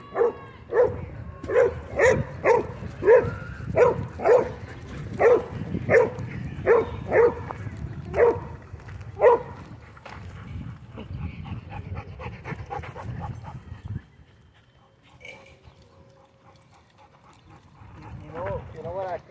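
Dogs at a dog park bark in a steady, rhythmic run of loud close barks, then pant and whimper more quietly, with a few soft tones near the end.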